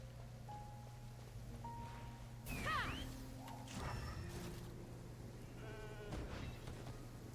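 Goats bleating in a fantasy exploration video game, a few short wavering bleats at moderate distance over a steady low ambient hum, with no talk.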